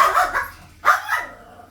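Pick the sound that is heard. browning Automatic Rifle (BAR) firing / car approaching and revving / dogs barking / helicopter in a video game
dogs barking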